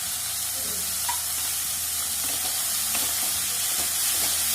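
Chopped garlic, chili and onion deep frying in hot oil, with a steady, fairly soft crackling sizzle throughout and occasional small pops and stirring clicks.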